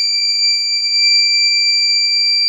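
An electronic alarm sounds nearby, giving a loud, piercing, steady high tone that holds without a break and stands alone.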